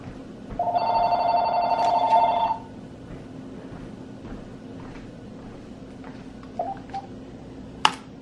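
A telephone rings once in a continuous electronic trill for under two seconds, fairly close and clear, followed by a quiet room with faint handling sounds and a sharp click.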